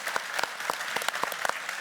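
Audience applause at a conference Q&A session, a steady patter of many hands clapping with sharp individual claps standing out, moderately loud and continuous.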